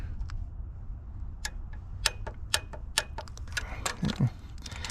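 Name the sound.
torque wrench clicking while torquing Ram EcoDiesel thermostat bolts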